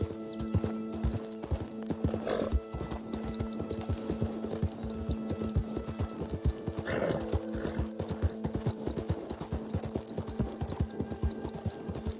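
A horse gallops at a steady pace in the Red Dead Redemption 2 video game, rhythmic hoofbeats with two short whinnies and snorts along the way, close and continuous with no speech.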